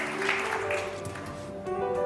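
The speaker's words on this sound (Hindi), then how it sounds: "खलील भाई के लिए बहुत सारी तालियां जी।" A studio audience claps in a continuous, moderately loud burst lasting about two seconds, with a faint steady tone running beneath the clapping.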